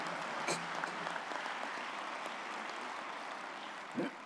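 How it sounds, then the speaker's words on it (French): Warm applause from a conference audience at an annual congress, steady dense clapping filling the room at moderate loudness with no voices over it. "On vous applaudit chaleureusement."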